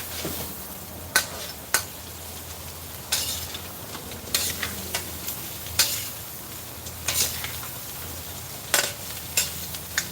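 Garlic fries in a pan during crab cooking, a steady low sizzle running underneath while a utensil stirs and scrapes the pan in sharp, irregular clicks and taps.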